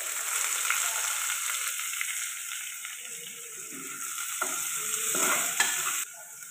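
Onions and garlic frying in hot oil in a pan, a steady close sizzle with scraping stir strokes through the middle and a sharper clatter near the end.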